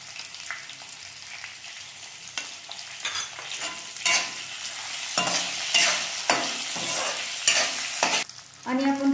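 Drumsticks fry and are stirred in a hot spice tempering with turmeric, a loud close sizzle broken by repeated scraping stirs and clatters, with no talk.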